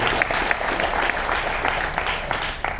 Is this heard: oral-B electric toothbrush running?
no